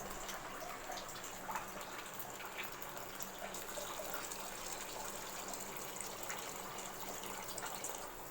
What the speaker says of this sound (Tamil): ஸோ வாட்டர் ஊற்றிடலாம்.